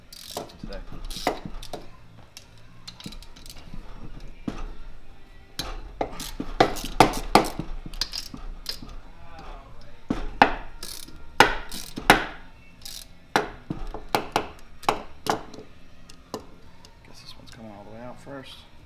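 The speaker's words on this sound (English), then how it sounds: "So I need an 11 millimeter wrench." A socket wrench ratchets in bursts of rapid clicks as 11 mm nuts come off the top end of a Garelli NOI moped engine, with scattered clanks of metal parts and tools close by.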